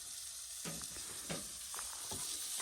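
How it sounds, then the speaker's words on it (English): Faint, steady sizzling of food cooking on a camp stove top at a campsite, with a few soft stirring sounds over a constant hiss. "we are now cooking on the"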